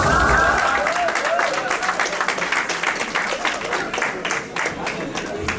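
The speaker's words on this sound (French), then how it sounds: "les deux mains peuvent encore applaudir s'il vous plaît" Sustained audience applause fills a room at a twentieth-anniversary social gathering in Ottawa, dense and steady clapping from many hands that tapers slightly toward the end.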